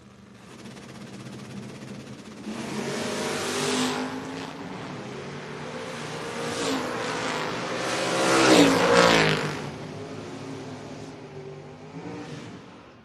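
A 1968 Camaro makes a drag racing run, its engine droning and swelling through a loud rev build that peaks near the end before easing off, with a broad roar of crowd and track ambience around it.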